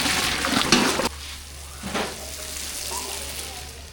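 Hot water poured into a pot of tomato rice mixture, giving a loud burst of sizzling and bubbling that drops to a softer simmer with occasional stirring.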